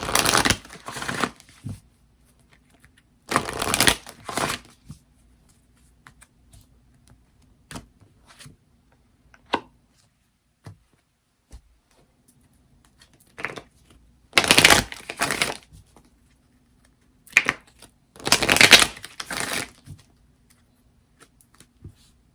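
Tarot cards being shuffled by hand in several separate bursts of rapid riffling and flicking, with quiet pauses and small taps between them, close and clear with no talk.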